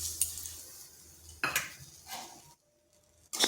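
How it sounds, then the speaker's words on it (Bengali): A wok set down on a kitchen stove and a bowl of dalia handled nearby, heard as a few close metallic clanks and clinks of cookware separated by quiet pauses. "এখানে কড়াই বসিয়েছি, নিয়ে নিচ্ছি এক বাটি ডালিয়া।"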